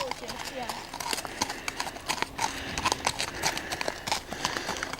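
Horse hooves clip-clop in a quick, steady rhythm on a path by a reservoir, close and clear, with a voice talking over part of it.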